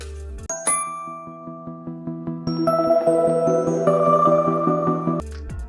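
A BlackBerry smartphone ringtone plays a bright melodic sequence of chiming, bell-like tones in a steady rhythm, building into a layered tune and stopping abruptly after about five seconds.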